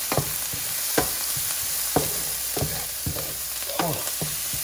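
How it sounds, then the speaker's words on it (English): Penne with salmon sauce stirred in a pan, spoon knocks and scrapes at roughly one-second intervals over a steady sizzle, close with no voices. "We're gonna mix it all up."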